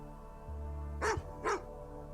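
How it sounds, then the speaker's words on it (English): A dog barks twice in quick succession, about half a second apart, moderately close, over a steady low background hum with no talking. "Oh, that dog."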